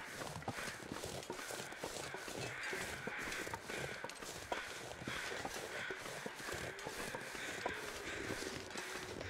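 Scattered crow caws from the survival game The Long Dark sit in a steady windy ambience along with soft crunching footsteps, all at a moderate level throughout.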